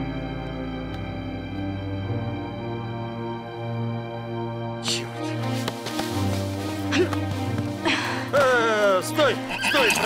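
A horse whinnies with a rising, wavering call near the end, over a steady musical background and some movement noise.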